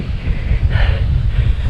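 Steady wind rushes across the microphone throughout a bike ride climbing toward Lintaon Peak in Baybay, Leyte, a constant low buffeting roar with no break.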